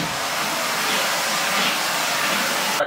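A vacuum cleaner runs nonstop, giving a loud, even whooshing drone with no pauses.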